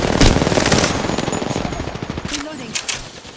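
Rapid automatic gunfire in Apex Legends, a loud close burst of fast repeated shots that thins into scattered rounds and fades, with game effects mixed underneath.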